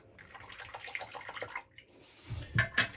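Running water splashes and trickles close by while someone rinses off during a wet shave, quiet flow rising to louder gushes near the end.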